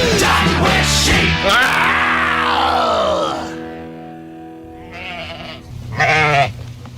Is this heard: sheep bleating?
yes